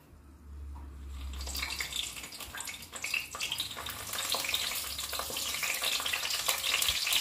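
Food frying in hot oil in a pan, a close, dense sizzle and crackle that builds steadily and stays loud to the end, with no talking.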